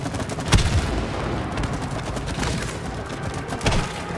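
Gunfire in the co-op video game It Takes Two, a steady run of shots over a busy game soundscape, with a few louder bursts standing out near the start and end.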